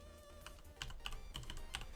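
Quick, uneven keystrokes on a computer keyboard at a home art desk, clicking in short bursts close by, with no talking.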